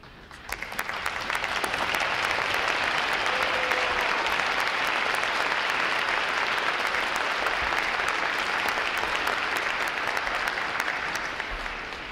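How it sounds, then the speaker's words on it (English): A large crowd at a U.S. Navy recruit training graduation ceremony gives veterans a long, sustained round of applause. The dense clapping swells in quickly, holds steady and loud, then eases slightly toward the end, with no talking over it. "Will all our veterans please stand so we give you a round of applause."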